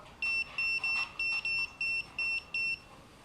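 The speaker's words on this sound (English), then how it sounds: "I have my remote in my pocket. I leaned on it a little bit and activated just the beeping sound" A sharp electronic beep repeats seven times in an even, quick rhythm, high-pitched and clear over faint background noise.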